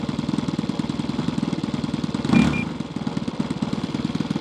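A Hanger9 J3 Cub model plane's small engine idling, a steady, close, rapid pulsing putter that swells briefly midway and then settles back into its even rhythm.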